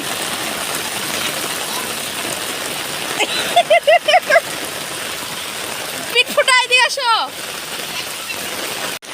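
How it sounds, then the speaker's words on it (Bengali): Heavy rain pours steadily onto surfaces throughout, a dense close hiss, while short bursts of speech and a few bright sounds cut in briefly over it. "এখন অনেক জোরে আসছে বৃষ্টি।"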